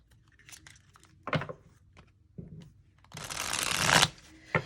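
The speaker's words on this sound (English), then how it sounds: "I am going to give these a quick shuffle." Tarot cards being shuffled in a few short riffles, then a longer flurry of crisp, fluttering card noise, close and clear with no talking.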